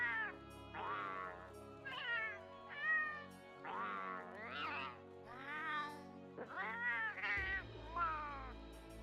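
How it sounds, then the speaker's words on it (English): A Palico cat companion in Monster Hunter World meows repeatedly, a run of short, bright, clear mews in a lively rhythm, close and alone without talk. "Oh, you can even change the voice of the cat."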